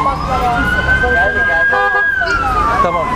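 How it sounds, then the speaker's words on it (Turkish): An ambulance siren wails steadily in city traffic in Gaziantep, a loud rising and falling tone that holds through the whole stretch, with engine and road rumble beneath and a voice talking briefly. "Ambulans geliyor değil mi?"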